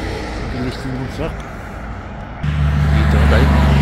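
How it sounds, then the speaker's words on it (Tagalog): A truck passes on a road beside a parking lot where an RV is stopping for the night, its engine rumble growing louder and steady in the latter half under low background noise. "Truck."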